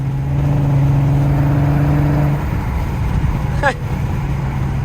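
A steady Volkswagen car engine drones at an even pitch in fifth gear with road rumble, cruising without revving; a brief chirp cuts through near the end.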